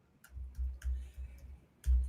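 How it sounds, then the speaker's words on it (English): Keyboard typing heard as a run of soft, uneven clicks and taps close by, with faint background murmur from a podcast setting. "Yell at the one who's typing right now."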